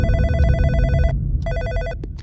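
A telephone rings in two loud bursts of an electronic bell, with a short gap between them, set against a low rumble and a couple of faint clicks near the end.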